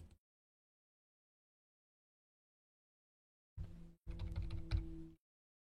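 A computer keyboard is typed on in two short bursts of quick keystrokes after a long silence, close and fairly quiet.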